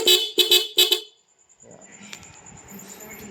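A Honda Zoomer X motorcycle's twin horn blares three quick honks in a row, loud and close, then fades into a quieter background hum.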